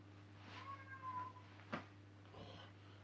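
A cat indoors, kept in by a cat door that is not working, gives a few faint, drawn-out meows against a quiet room with a steady low hum, with one short sharp knock midway.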